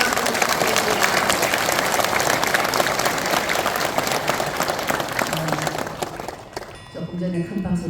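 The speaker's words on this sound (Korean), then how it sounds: "회장님 제가 한 번 더 큰 박수 부탁드립니다." Audience applause fills a Buddhist teachers' association assembly hall, a dense, steady roar of many hands clapping that fades near the end as a voice begins speaking.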